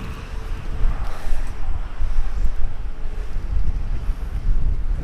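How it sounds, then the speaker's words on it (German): Wind buffets the microphone in strong, uneven gusts beside a canal in winter, a constant low roar with no voices. "Es ist zwar windig, aber kein Regen."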